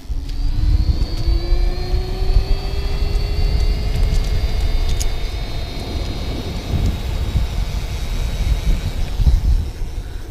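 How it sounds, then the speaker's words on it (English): A Revelo Flex compact electric bike speeds up to full speed, its motor whine rising steadily in pitch over constant loud wind and road rumble. "I'm gonna go ahead and accelerate to full speed now."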